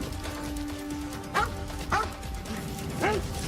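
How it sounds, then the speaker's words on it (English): A police dog gives three short, sharp yips roughly half a second apart during a foot pursuit of a fence-hopping suspect, heard at middle distance over steady background noise. "Followed by police dog Rambo"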